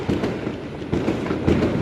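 Diwali firecrackers are lit and burst in Hyderabad, a string of uneven crackling pops and thuds at close range with no talk over them.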